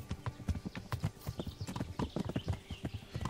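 Horse hoofbeats while riding in the medieval game Kingdom Come: Deliverance, a fast, even clip-clop of several hooves that stays close and fairly loud throughout.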